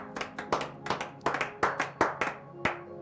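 A church congregation clapping, about a dozen sharp rhythmic claps in quick succession, close and fairly loud, with a few hands slightly out of sync.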